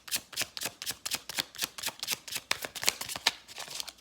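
Tarot cards being shuffled by hand, a rapid run of crisp riffling flutters and soft slaps in a steady rhythm, close and fairly quiet with no talk.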